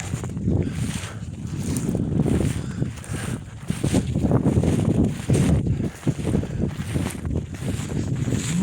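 Gusty winter blizzard wind buffets and roars in uneven surges beside a forest shelterbelt, blustering close against the microphone without letup.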